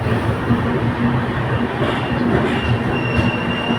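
A passenger train with LHB coaches, the Padatik Express, leaves New Alipurduar station and picks up speed, producing a loud, steady rumble of wheels on rails with a faint metallic squeal and no talking.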